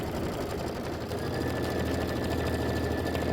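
A sewing embroidery machine stitches the stripe placement line for a Kimberbell quilt block, a soft, steady rapid chatter of the needle, close but quiet, with no talking.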